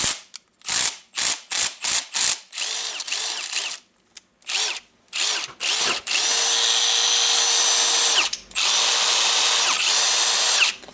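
A Milwaukee M18 CBLID brushless cordless impact driver, just cleaned and repaired, fires in short rapid bursts that give way to long sustained hammering runs, loud and close with brief pauses between.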